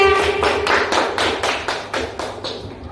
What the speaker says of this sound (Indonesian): tepuk tangan dulu buat Adit ya